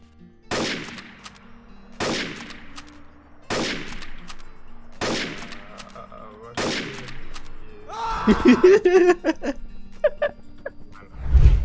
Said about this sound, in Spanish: No eran balazos, eran los cohetes